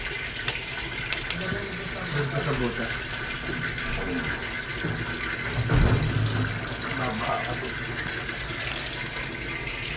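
Water runs steadily from a hose into a Whirlpool automatic washing machine under repair, a continuous splashing stream with a brief surge midway, while a person talks briefly over it.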